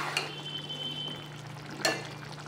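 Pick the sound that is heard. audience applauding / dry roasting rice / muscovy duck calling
dry roasting rice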